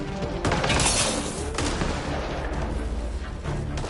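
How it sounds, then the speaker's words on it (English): Dense video-game gunfire in Mass Effect: Andromeda, rapid overlapping shots and booming bursts in a loud continuous barrage, close and unbroken by speech. "Just keep firing, we can do this!"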